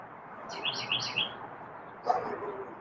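A pet bird gives a few quick, bright chirps, then one more short call after a pause, close and fairly clear over a quiet kitchen background.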